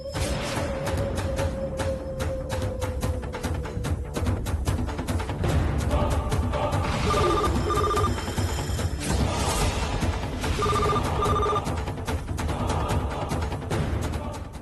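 A phone rings with a repeating electronic tone in two bursts during a Telugu TV serial scene, sitting over steady background music.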